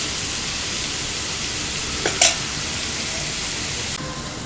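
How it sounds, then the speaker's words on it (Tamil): Tomatoes mixed with masala spices fry in a pan for a squid fry, giving off a steady, loud sizzle, with a brief clatter of stirring partway through. "நம்ம தக்காளியோட மசாலாலாம் கலந்து போட்டோம்னா சீக்கிரம் வதங்கிடும்"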